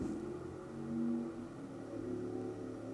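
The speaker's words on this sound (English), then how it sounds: "like that motorcycle, for instance" Outside, a motorcycle passes faintly in the distance, its engine swelling briefly, then fading into a low rumble.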